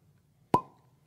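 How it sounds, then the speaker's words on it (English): A single sharp cork pop from an Old Scout whiskey bottle, close and crisp, followed by a short ringing decay in an otherwise quiet room. "Let's cork pop."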